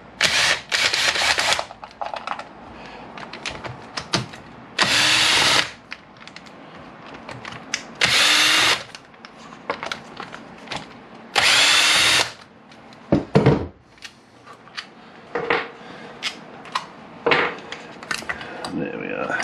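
A power tool cracks bolts off the cam cover of a 1998 Kawasaki ZX9R engine during teardown, firing in several loud, close whirring bursts separated by pauses filled with clinks and rattling parts.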